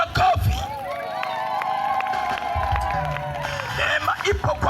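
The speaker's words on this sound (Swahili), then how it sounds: "Mpigie tena Yesu makofi." A congregation at an evangelistic gospel meeting in Nyakatome, Sengerema, claps and cheers for Jesus, crowd noise and whoops swelling around a sustained sung or shouted voice.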